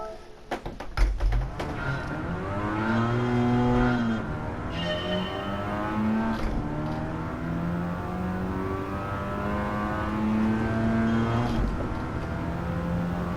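A Mazda RX-7 FC in Gran Turismo 7 revs through its gears in a close, steady engine drone, with pitch climbing and dropping at each shift and a few sharp clicks near the start.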